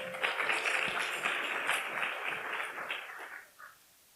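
Audience applause greeting a student speaker at a Korean-language speech contest during a Japan–Korea friendship festival in Shizuoka; a dense, steady wash of clapping that thins and fades out near the end, with no talk.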